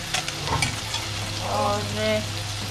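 Spices hit hot oil in a cooking pan while making sambar, a soft sizzle and frying hiss with light stirring scrapes, faint and close.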